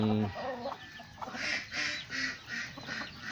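Heritage chickens, including a brooding hen, cluck and call in a series of short bursts close by, with a louder squawk at the start and steady rhythmic clucking after.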